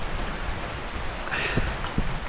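Steady rain hisses across the whole clip, with a couple of faint, brief tonal sounds in the background.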